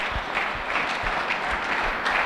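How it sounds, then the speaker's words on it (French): Worshippers at a Sunday church service applaud together, a continuous stretch of many hands clapping at moderate volume, steady and unbroken for a couple of seconds. "Nous applaudissons pour le Seigneur."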